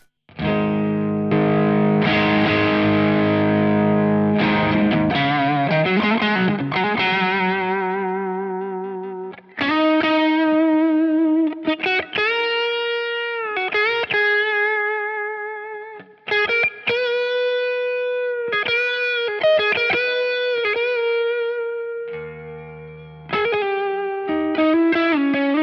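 Electric guitar played through a VS Audio Royal Flush dual overdrive with both channels engaged, giving a loud, heavily saturated tone; strummed chords ring out, then separate sustained notes and phrases with short gaps between, no talking.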